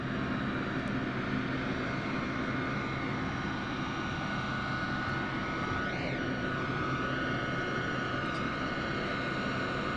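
The presidential plane taxis toward the pulled-up stairs on the tarmac at Monroe, its steady engine roar filling the scene continuously and loudly, with a faint pitch shift partway through as it draws closer.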